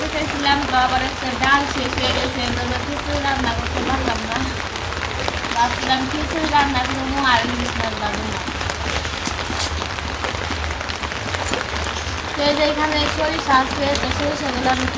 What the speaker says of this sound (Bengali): তারপরে বৃষ্টি বৃষ্টি আছে